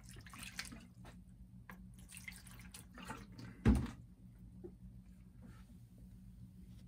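Water from a tap drawn for watercolor painting, a soft intermittent trickle and drip against low room hum, with one louder splash or thump midway through, no talking.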